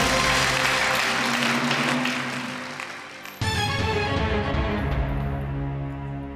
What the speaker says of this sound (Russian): Аплодисменты нашей умнице.